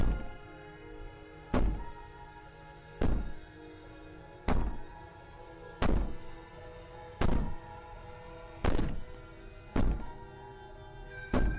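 Heavy, evenly spaced thuds pound on a cabin door in the video game Slay the Princess, eight loud booming knocks about every second and a half over a low steady drone.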